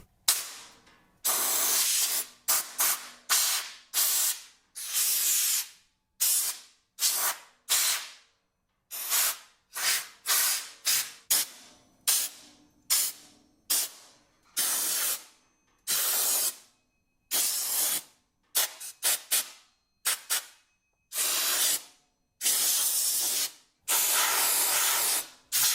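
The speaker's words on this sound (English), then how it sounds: "We're basically just gonna hit it with an air gun" Compressed-air gun blasting dirt off a vintage 1970 Coleman 425E camp stove: loud, close hissing bursts of varying length, repeated dozens of times with short silent gaps between them, no talking.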